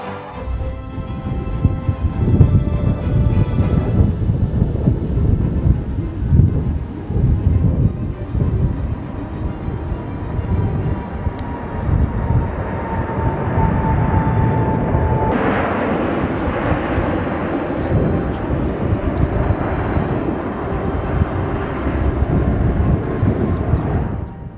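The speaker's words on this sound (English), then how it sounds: "The Air Force Academy graduation Thunderbird flyover is one of those spectacles" Thunderbirds jets roar past on a flyover at an Air Force Academy graduation, a loud, sustained broadband rumble that swells and shifts in pitch midway, with a rising whine, no talk over it.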